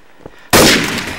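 A sniper rifle shot in a video game: after a near-silent moment comes one sudden, loud, sharp crack that decays slowly into a ringing tail, with nothing else around it.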